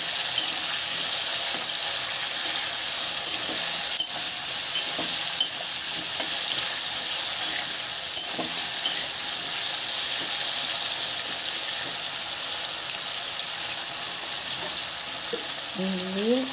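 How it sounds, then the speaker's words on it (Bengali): Potatoes frying in a pan with a little salt, a steady loud sizzle running throughout with occasional scraping stirs, no talking. "আলুগুলো একটু ভাজা ভাজা হওয়ার জন্য আমি চাপা ঢাকা দিয়ে দেবো"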